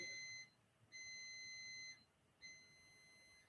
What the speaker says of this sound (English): Bread oven's beeping.